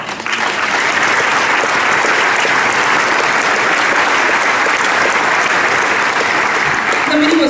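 A theatre audience applauds at the close of a premiere performance of the musical play 'Lepo je biti muzikant', a dense, loud, steady wash of clapping sustained throughout with no voices on top.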